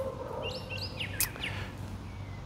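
A bird chirps outdoors with a few quick, rising tweets and one sharper call, fairly near, over a steady low background hum.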